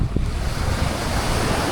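Ocean surf breaking on the beach at Playa del Carmen, a loud continuous wash of waves with strong wind buffeting the microphone and no voices.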